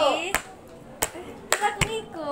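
Claps from children in an Indonesian economics classroom, a few sharp separate hand claps spaced apart over a low murmur of voices.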